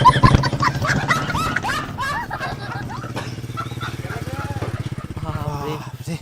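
A motorcycle engine drones steadily nearby, rising and falling as it passes, partly masked by excited voices talking and calling over it.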